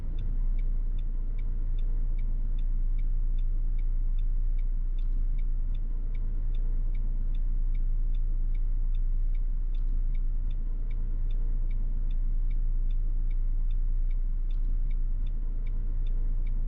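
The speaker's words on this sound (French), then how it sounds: "Je recule tout doucement au point de patinage." A car creeping slowly backward at the clutch biting point during a driving lesson, a steady low engine drone close by with a faint regular ticking above it, continuous and unbroken.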